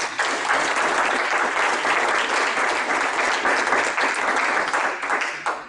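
Audience applause fills a lecture hall at a talk on achieving high-performing schools, a dense, steady wash of many hands clapping at even loudness throughout, with no voices standing out.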